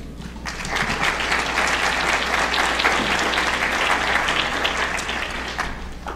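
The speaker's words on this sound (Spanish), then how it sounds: "solicito que lo hagamos acompañándolo con un aplauso" An audience at a state climate change programme event in Jalisco applauds, a dense, steady burst of clapping that starts abruptly and fades slightly at the close.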